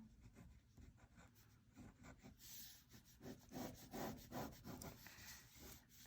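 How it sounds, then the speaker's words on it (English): Pen scratching quick sketchy shading lines over paper in a self-portrait drawing, with rapid close, repeated scraping strokes that grow busier toward the end, no voices. "I'm just gonna go over these lines in a sketchy kind of way"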